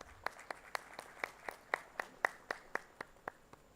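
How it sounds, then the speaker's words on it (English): Clapping at a textile launch event in Bhubaneswar, sounding as evenly spaced sharp claps at a steady rhythm, about four per second, moderately close and distinct rather than a dense crowd wash. "A big round of applause for that."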